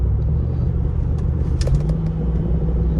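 A 2021 Jeep Wrangler with the Hemi 392 V8 and an 8-speed automatic is driven while its paddle shifters drop a gear. A loud, steady, deep engine rumble fills the cabin, with a few brief clicks and no talking.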